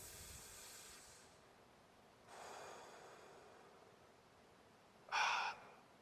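Slow, deep breaths during meditation: a long soft airy exhale, a pause, a breathy inhale, then a sharper brief snort-like breath, faint and close with no talking.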